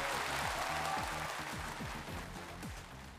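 Studio audience applause for a singer on the Chinese singing competition show The Next season 2, a steady, full wash of clapping with music underneath that eases off slightly toward the end.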